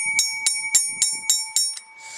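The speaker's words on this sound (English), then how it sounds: "It's kind of like a old bell, or a wannabe bell" An old railroad crossing bell, part of a vintage crossing setup, rings with six or seven evenly spaced metallic dings, close and loud, each strike leaving a sustained ringing tone.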